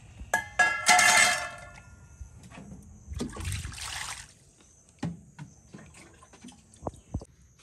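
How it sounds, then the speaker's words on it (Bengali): Hot water poured out while rinsing a cleaned fish and pan, with a loud trickling splash near the start, a second softer pour a few seconds later, then scattered light drips and clinks. "এই যে গরম জল দিয়ে দিচ্ছি"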